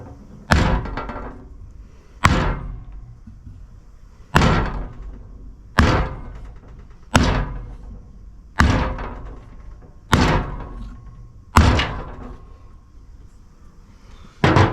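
A seal installation tool is struck to tap a seal into place, giving about ten loud, evenly spaced metallic thuds, each with a short ringing decay, close up and with no talk.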